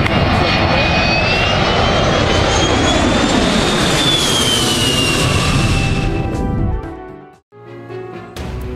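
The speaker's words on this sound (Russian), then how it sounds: "Боинг 747 «Супертанкер» – американский пожарный самолет, который является самым большим самолетом в мире, предназначенным для тушения пожаров" A Boeing 747 Supertanker firefighting jet passes with a loud, roaring engine noise and a rising whine that sweeps overhead, then quickly fades away. Talk is heard over the end.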